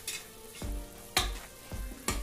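Chili, cumin and coriander powder fry in hot oil in a pan for black masoor dal, sizzling under three or four close scraping stirs of a spoon.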